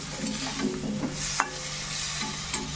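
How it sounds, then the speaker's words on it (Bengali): Vegetables frying with spices in a pan, a steady soft sizzle under scattered stirring scrapes, with one sharp splash-like burst near the middle as a small amount of water goes in. "এবার দেবো সামান্য একটু জল।"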